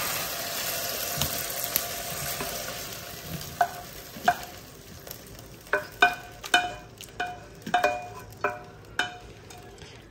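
Chicken breast cooks in a frying pan with a steady hiss of sizzling fat, then a run of sharp utensil taps and scrapes against the pan in a loose rhythm.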